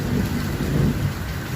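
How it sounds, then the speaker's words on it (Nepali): Steady heavy rain pours down through a daytime thunderstorm, low thunder rumbling underneath as a constant, loud wash with no break. "यसरी चट्याङ पनि परिरहेछ होइन।"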